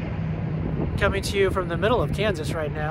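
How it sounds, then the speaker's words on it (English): Gusty wind buffets the microphone outdoors on a windy day in the Flint Hills of Kansas, a steady low roar running under a man's close, continuous talking. "It's a little windy, but hopefully this will work out."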